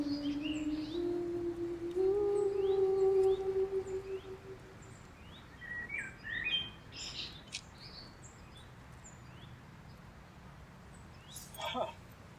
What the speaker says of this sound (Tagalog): sa dami ng huni ng ibon